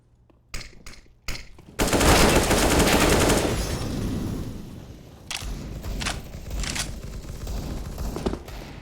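A flashbang grenade goes off in a shooter game, a loud, close, sustained blast that washes out into a fading roar, preceded by a few sharp shots and followed by scattered clicks and thuds.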